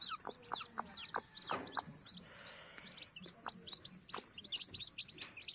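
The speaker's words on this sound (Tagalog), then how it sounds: "Sisiyo to ng Rhode Island. Apat na sila." Rhode Island Red chicks peep in rapid, high chirps that overlap continuously, close and fairly quiet, with soft clucking and faint background rustle.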